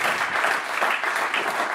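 Comedy-show audience applauding, a dense, loud wash of clapping from a full crowd that holds steady throughout.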